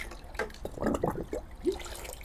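A mix of molasses and water poured into worm casting tea, giving a short, close, uneven splashing and gurgling pour in a few bursts with no talking.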